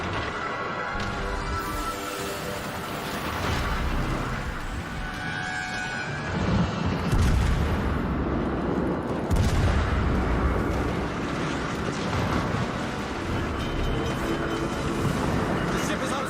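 Warship gunfire in World of Warships Legends, a cruiser under fire with rumbling booms and crashing shell impacts over continuous naval battle noise, while someone talks throughout.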